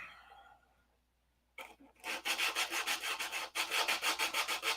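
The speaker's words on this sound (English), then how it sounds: "few hours of sanding to do on this" A half-scale Cobra model coated in Z-poxy is sanded by hand, starting after a quiet pause with rapid rhythmic back-and-forth strokes, loud and close, continuing steadily.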